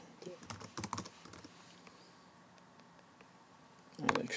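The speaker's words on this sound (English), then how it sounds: "I shall now type in my email address again." Typing on a computer keyboard while entering an email address, a quiet indoor scatter of soft key taps in short bursts with pauses, ending in a louder cluster of clicks.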